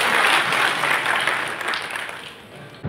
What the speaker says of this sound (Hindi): जरा तालियां बजाकर स्वागत करें